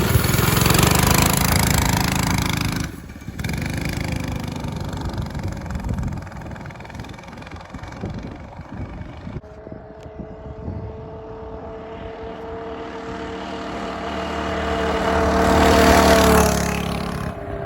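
A Coleman mini bike with a 224cc Predator engine revs loudly on a test ride, the engine note dropping to a lower drone and rising again as it speeds back by, heard alone without talk.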